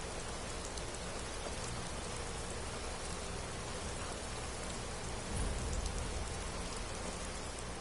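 Steady rain pours in Skyrim, a dense even hiss of drops falling on surfaces, continuous and close, with a brief louder low rumble around the middle and no voices.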